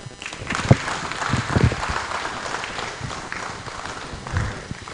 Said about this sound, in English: Please keep the applause coming for Nana.